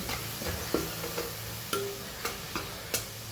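Masala with Kashmiri chili is stirred in a sizzling pan, a spoon scraping and tapping in irregular strokes over a low frying hiss, with no talking.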